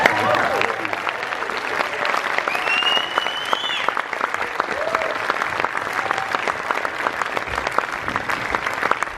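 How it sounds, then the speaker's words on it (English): A live interview audience gives Steven Spielberg and Tye Sheridan a sustained burst of applause, a dense, steady wash of many hands clapping with scattered cheers and whoops over it. "Please give a very warm round of applause for our guest"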